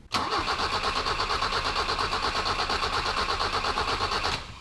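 A 1985 BMW 318i E30 with a no-start fault cranks steadily for several seconds, the starter churning in an even rhythm up close without the engine catching, then winding down.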